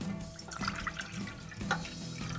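Water pours and splashes steadily into a pot in a home kitchen, a soft continuous trickling and gurgling with no talk.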